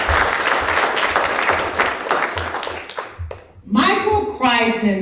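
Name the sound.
audience applause at a Black History Month family fest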